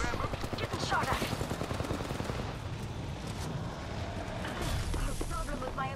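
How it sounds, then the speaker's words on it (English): Rapid gunfire crackles in bursts while the player is being shot at in a shooter video game, dense and continuous across the whole stretch, with a voice talking over it. "Getting shot at."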